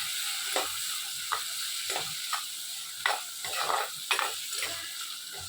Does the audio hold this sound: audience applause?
no